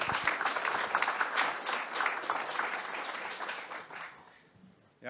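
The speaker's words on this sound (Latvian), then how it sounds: "ar skaļiem aplausiem sagaidām Arni Sauku" Loud audience applause fills a conference hall at an economics event at Riga's school of economics, welcoming a speaker onstage; dense steady clapping sustains for about four seconds, then fades out quickly.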